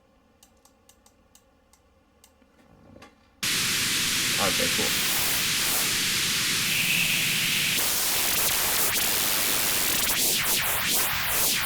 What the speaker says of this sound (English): I'll add an effect here so you can hear it. A frequency shifter should do something to the noise.